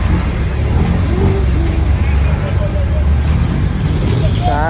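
A Philippine roadside has busy traffic passing close, with engines rumbling steadily and a sharp hiss of air brakes near the end as a jeepney approaches.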